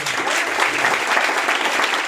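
An audience in a Hindi-language business talk breaks into steady applause for a man named Arvind, a dense, even wash of clapping that holds at full strength throughout with no voices over it.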